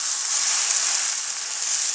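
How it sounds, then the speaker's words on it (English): Steady, bright sizzling of a grilled cheese sandwich frying in a hot pan, continuous and close, with no talking. "As you can hear it, Oh, it's instantly sizzling."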